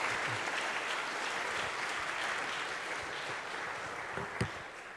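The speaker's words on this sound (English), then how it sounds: "I think our interviewer deserves a big round of applause." Audience at a lecture event claps for the interviewer, a full, dense burst of applause that starts loud and tapers slightly toward the end, with a brief louder clap or thump near the close.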